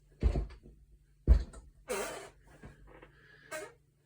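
An old office chair, about seven years old, creaks and squeaks as someone shifts in it, several short knocks and thumps followed by higher squeaky groans, close and otherwise quiet.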